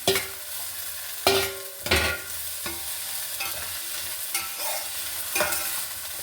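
Chopped ivy gourd with crushed dried red chillies being stirred and frying in oil, with a steady close sizzle broken by several sharp scraping stirs of a spatula against the pan.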